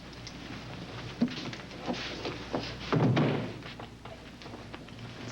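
A door is pushed shut in a quiet office, with a few soft thumps and shuffles leading to a heavier thud near the middle, then faint room noise.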